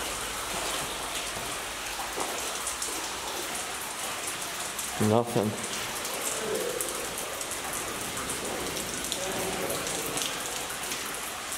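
Water running and splashing through an abandoned tunnel beneath Minneapolis during rain, a steady broadband wash filling the whole clip, with a brief louder patch of talking or handling noise midway.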